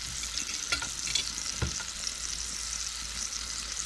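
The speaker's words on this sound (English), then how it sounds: "when I'm cooking that steak" A steak sizzles while cooking at a campsite, a steady close frying hiss with a few sharper pops and a utensil knock, no voices.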